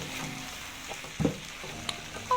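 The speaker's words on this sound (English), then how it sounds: "we are going to give this a perfect mix so that our veggies and our noodles are perfectly combined" Noodles and colourful vegetables stir-fry in a hot pan, a soft sizzle under scattered scrapes and a few sharp clanks from stirring.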